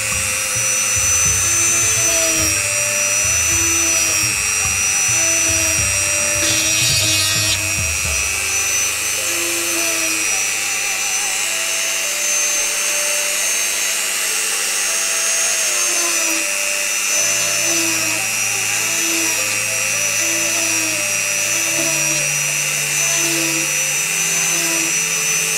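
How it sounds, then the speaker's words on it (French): A small Dremel rotary tool whirs at a high, steady pitch for the full length while drilling small finger holes in glove leather. Its tone shifts slightly as the load changes, with no speech. "Moi je trouve que ça va plus vite avec le petit Dremel. Donc je l'allume."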